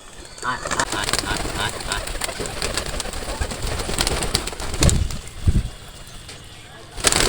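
Pigeons in a rural village coo softly among rustling and scattered clicks, with someone talking through most of it and a couple of louder thumps near the end.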